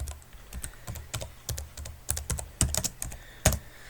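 Fingers type a diskpart command on a computer keyboard, a quick run of close, crisp key clicks in uneven bursts, the last strokes sharper like an Enter press, no voices.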